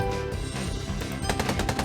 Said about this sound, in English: Gunfire erupts from behind